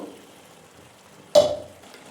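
A splash of water poured into a hot pan while cooking alu matar malai, a sudden loud hiss that bursts out and fades over half a second after a quiet simmering lead-in.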